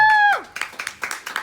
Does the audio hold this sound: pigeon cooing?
no